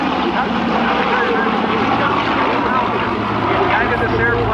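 A B-29 Superfortress bomber flies past at an airshow, a loud continuous propeller-engine roar filling the whole stretch, while an announcer talks over it.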